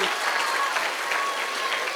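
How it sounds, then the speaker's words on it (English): Full, continuous applause from an audience at a music festival honoring a performer, dense and steady across the whole stretch with a faint voice underneath. "He deserves a big round of applause."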